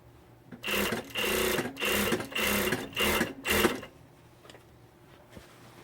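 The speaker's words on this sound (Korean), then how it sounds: "이렇게 스티치 작업을 하는 겁니다." A sewing machine stitches the hem of a shirt in five or six close, even bursts of rapid mechanical whirring, separated by short pauses, then falls quiet.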